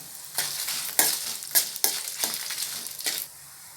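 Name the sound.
roasting masala with dried red chillies in oil in a pan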